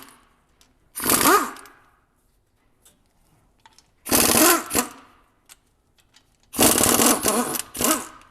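A pneumatic air tool works on a 10-bolt differential, firing in three loud, close bursts of rattling impact, each about a second long, the last in two quick pulses, separated by near silence.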